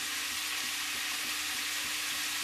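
Mutton pieces fry in a pan while being stirred, giving a continuous dense sizzle with soft scraping underneath, steady and close, with no talking.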